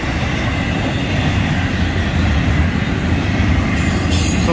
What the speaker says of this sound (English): So this will be the last train of the FEC report for this weekend.